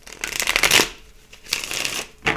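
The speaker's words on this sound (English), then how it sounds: "Let me shuffle." A deck of playing cards is shuffled in a few quick riffling bursts, close and crisp, with brief pauses between them.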